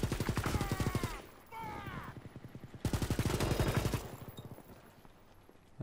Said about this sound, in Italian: Questo G38 spara troppi colpi